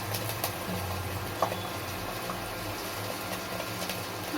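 Ginger paste and salt dropped into hot oil in a pan, giving a steady close bubbling crackle with scattered small pops throughout.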